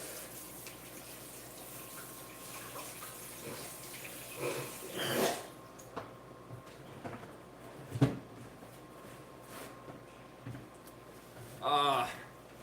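Running tap water splashing while hands are washed with soap, with intermittent bursts of flow and splashing over a low background hum and a few knocks.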